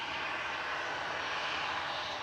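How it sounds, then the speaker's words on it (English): Airbus A380 airliner on approach to Manchester Airport, a steady broad engine roar that holds level throughout. "A380 is now on the glide slope"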